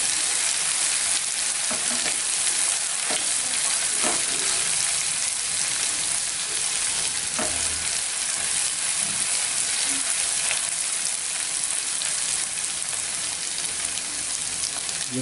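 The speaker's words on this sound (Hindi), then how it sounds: "उसके बाद थोड़ा सा जो है वो फ्राई करेंगे।" Aloo mogray, a vegetable cooked with potatoes and spices, sizzles steadily in a pan. The hot frying hiss continues throughout, with occasional clicks and scrapes from stirring.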